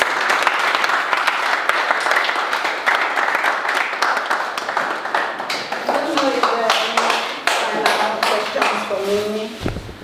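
Sustained applause from a conference audience at a teaching and pedagogy event fills the hall, dense clapping continuing throughout with voices joining near the end.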